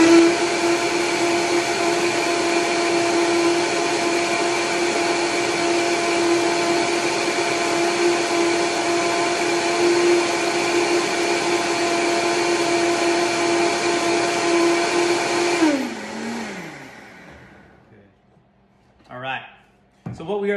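A blender whirs loudly and steadily while blending Brazil nut milk, its motor pitch holding for a long stretch, then winding down and stopping, with a few faint clinks afterward.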